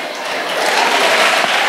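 Crowd applause with cheering at a church retreat for unmarried people, a short burst of clapping and raised voices, loud and dense.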